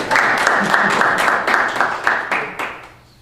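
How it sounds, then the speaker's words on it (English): A room of people clapping at a New Milford Board of Education meeting, a burst of fairly loud, dense applause that thins out and fades over about three seconds. "yeah, you can clap for them"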